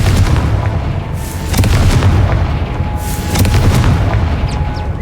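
A Confringo fire spell explodes in Hogwarts Legacy with two loud, booming blasts that rumble through a dense low roar, each burst followed by crackling debris, with no voices.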